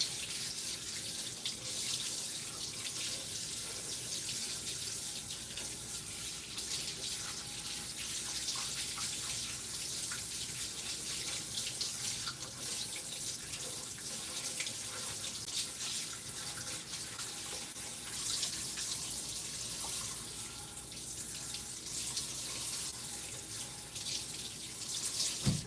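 Water runs steadily from a kitchen faucet into a sink while a cutting board is washed, a continuous splashing rush lasting throughout with no talking.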